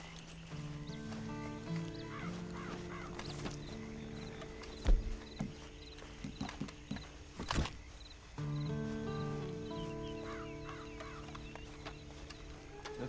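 A horse walking in the video game Red Dead Online, with soft hoof clip-clops and a few sharper knocks over steady ambient music tones and clucking chickens in the background.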